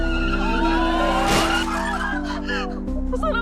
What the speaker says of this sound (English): She reverses back and hits her car again.